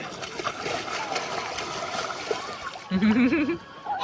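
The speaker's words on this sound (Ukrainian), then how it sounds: "оце ти булькаєш" A child splashes and bubbles while swimming in a lake, steady close water sloshing and gurgling with brief voiced bubbling sounds near the end, amid outdoor ambience.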